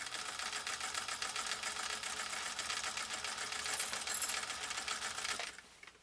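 A Singer Featherweight 222K sewing machine running at steady speed, a fast even rhythmic clatter of the needle mechanism that is fairly faint and then winds down and stops near the end.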